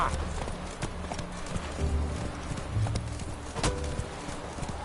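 Roach the horse galloping in Witcher 3, a steady rhythmic drumming of hooves close up over ambient game sound, with a voice briefly speaking.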